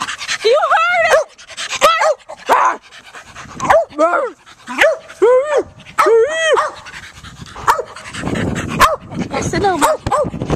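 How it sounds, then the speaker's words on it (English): A dog gives a run of sharp, repeated barks and yips, close and loud, with panting between bursts, while people talk over and around it. "what are you barking at?"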